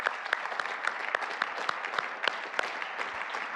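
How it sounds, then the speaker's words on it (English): Audience applause at a finance panel on the future of money, a steady stream of many hands with a few sharper claps standing out, moderately loud and without talk. "So a round of applause."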